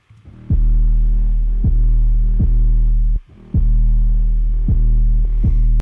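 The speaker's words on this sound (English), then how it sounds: "take a listen to our 808" Heavily EQ'd, saturated mono 808 bass with a low cutoff, booming in long sustained throbbing notes that repeat in a steady rhythm, with one brief dropout midway, loud and alone.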